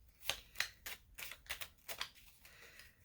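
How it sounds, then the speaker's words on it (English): Tarot cards being shuffled by hand, a series of soft, quick riffling bursts repeating at an irregular rhythm, close but quiet, with no talk. "And one more shuffle."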